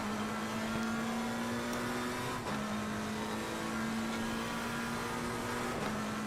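A race car engine drones steadily at high revs in Assetto Corsa Competizione while chasing a Porsche, the sustained tone dipping briefly with gear shifts.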